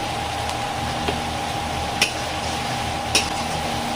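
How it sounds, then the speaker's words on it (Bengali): Masala with cashew and poppy seed paste cooks in a pan for a fish rezala, giving a steady soft sizzle with a few distinct spatula scrapes and taps against the pan. "কাজু আর পোস্তর পেস্টটা দিয়ে কিন্তু ঘন ঘন নাড়তে হবে না হলে তলায় লেগে যাবে"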